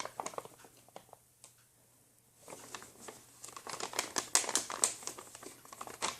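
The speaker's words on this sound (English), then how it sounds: "I will now seal the envelope." A paper envelope being sealed for a stage magic trick, heard as soft, close crinkling and pressing rustles in short irregular bursts after a quiet pause, with no talking.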